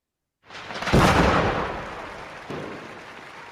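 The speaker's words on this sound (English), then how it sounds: "Listen again and number the fireworks." A single deep firework burst booms and crackles, then its rumble slowly fades, with a smaller pop shortly after.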